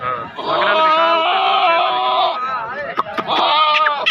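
Goats bleat loudly and continuously at a goat market, with overlapping harmonic calls from several animals close by, a short break, then more bleating toward the end.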